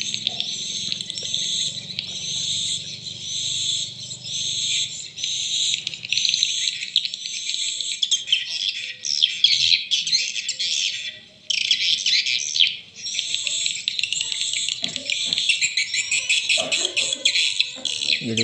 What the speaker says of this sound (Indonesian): Suara birahi yang sudah tidak diragukan lagi ya, dalam memikat burung walet responnya juga sangat mantap.